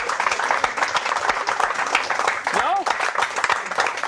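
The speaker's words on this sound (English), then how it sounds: "It felt a little gratuitous applause there." Dense audience applause at a live golf interview show, steady clapping throughout with a voice briefly speaking over it.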